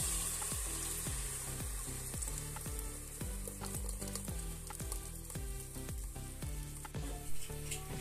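Onion and coconut fry in a hot pan, a dense continuous sizzle with a regular stream of stirring knocks against the metal, close and fairly loud with no talk.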